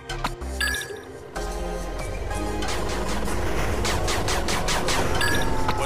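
Rapid machine gun turret fire from the 8-Bit Armies strategy game, a dense sustained rattle that starts after a short lead-in and keeps going loud and steady, joined by game effects and music, with no voice.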